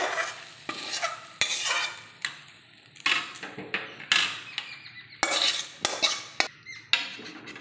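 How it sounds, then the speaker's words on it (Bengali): Fried mixed vegetables go into a pot of khichdi: sizzling, a spoon scraping, and a steady run of sharp metal clanks and taps against the pot, close and fairly loud, with no talk. "এবার আমি এটা খিচুড়ির ভিতরে ঢেলে দেব।"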